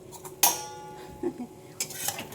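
A metal lid clanks down onto a pot of mutton and soybean curry, one sharp clink followed by softer metallic taps and a second knock of the lid settling.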